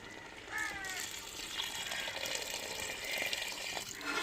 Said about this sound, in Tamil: நம்ம அளவு தண்ணி சேர்த்துக்குருவோங்க.